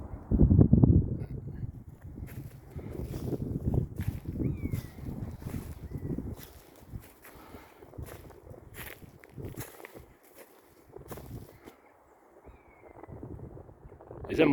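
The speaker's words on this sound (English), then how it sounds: "It's windy today" Gusty wind buffeting a microphone outdoors in the Scottish countryside, low rumbling blasts strongest early on, then fading to softer intermittent gusts, with footsteps and faint rustling.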